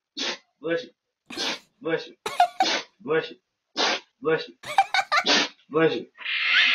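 Short bursts of chattering, squeaky sounds in quick succession, ending in a sharp, breathy sneeze-like burst.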